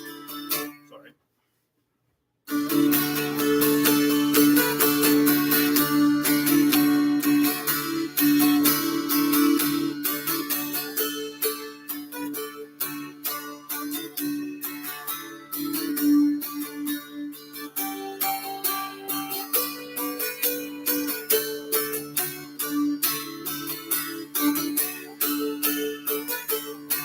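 Appalachian dulcimer playing Oh Susanna, a bright plucked melody over sustained drone strings, close and steady after a brief silence near the start.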